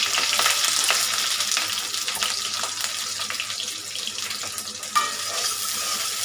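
Fried onions and paste cook in a hot pan, giving a steady hissing sizzle with scattered scraping clicks from stirring and a brief clink near the end, no talking heard.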